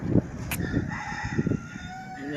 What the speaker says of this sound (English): You see the chickens over there?